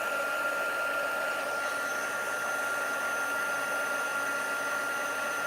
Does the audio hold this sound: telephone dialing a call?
no